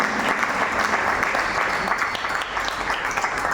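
An audience applauds at an honors ceremony with literature and music, a dense continuous wash of clapping from a large crowd holding steady throughout.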